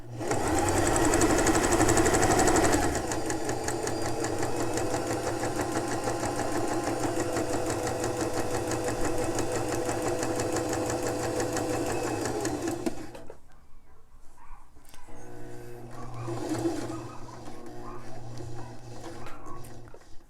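Sewing machine stitching elastic onto a fabric face mask runs in a steady, loud whirring stitch for most of the stretch, then stops; a quieter, intermittent mechanical hum continues afterward.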